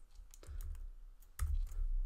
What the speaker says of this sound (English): Sorry for that typing there.